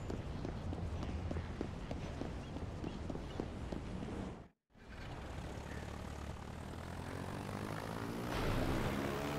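A seaplane's propeller engine in Gangstar Vegas drones loudly and continuously, with a brief cut to silence midway before the engine roar resumes and swells.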